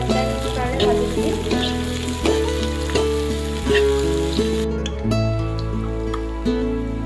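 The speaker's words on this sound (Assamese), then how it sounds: "পিঁয়াজখিনি অলপ টাইমৰ কাৰণে ভাজি দিম।" Onions fry in oil in a wok with a steady, moderate sizzle that continues throughout, while tonal background music plays underneath.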